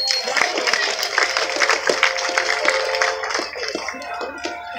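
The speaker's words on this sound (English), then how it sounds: "Let's give our girls a big round of applause." An audience claps at a California sea lion show, scattered applause mixed with talk and cheering, with crisp individual claps over a lively, noisy crowd.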